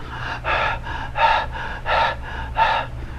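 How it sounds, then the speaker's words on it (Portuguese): Rapid open-mouth panting breaths, four strong airy bursts evenly spaced about every 0.7 seconds with softer breaths between, close and alone over a low steady background hum. "Você faz uma respiração ofegante"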